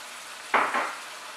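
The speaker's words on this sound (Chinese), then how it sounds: "进行翻炒" Shredded potatoes for hot and sour potato shreds being stir-fried in a wok with vinegar, heard as two quick, close scraping tosses with a brief sizzle, no voices.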